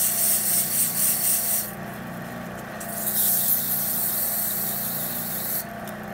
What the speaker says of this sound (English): Actually just gonna do some real quick light sanding in here